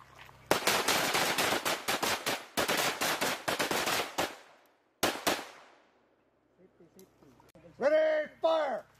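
Close quarters battle training range with U.S. Marines and Filipino troops, where rapid bursts of close, loud gunfire crack in quick succession, pause, then resume briefly before a voice calls out near the end.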